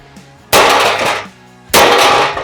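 Two loud, ringing hammer strikes land about a second apart, each a sharp metallic clang that decays slowly, as a bolt is flattened against a thin steel winch bumper on a cheap off-road car.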